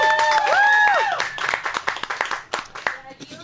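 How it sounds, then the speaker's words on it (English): A live radio broadcast crowd gives a round of applause, with scattered hand claps of varying loudness over whistle-like tones and voices, thinning out toward the end. "Got a big crowd here. How about a big round of applause,"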